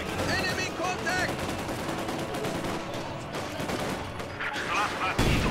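Machine gun fire rattles in the video game Company of Heroes 2 as dense, rapid bursts of automatic gunfire roll on throughout, mixed with battle noise and voices.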